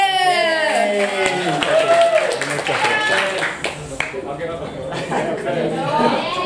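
An audience claps for a band at a 2018 graduation party, the applause sustained throughout and largely covered by people talking and chattering nearby.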